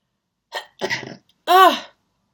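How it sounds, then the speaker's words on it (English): A single sharp sneeze, close and loud, preceded by a couple of quick, catching breaths. "I'm about to sneeze"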